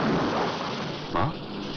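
Steady rain falls in a continuous broadband hiss that fills the whole moment, with a brief faint voice rising over it near the end.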